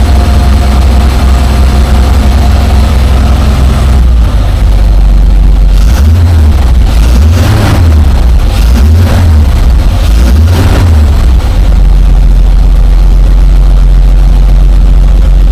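A car engine starts up and settles into a loud, steady idle close by, with a low rhythmic throb that swells for a few seconds before it evens out.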